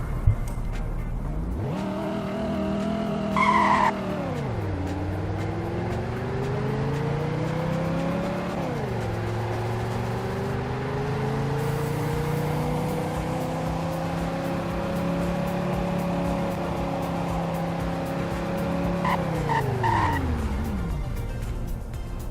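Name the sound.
car accelerating and braking in Roblox Greenville video game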